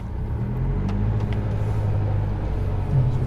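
An Isuzu D-Max pulls away off-road, its engine a loud, steady low rumble that swells slightly toward the end, heard from inside the cab without talk.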